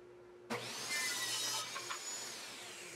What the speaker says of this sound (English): I just had to keep moving the fence on my table saw to get the slots the right dimension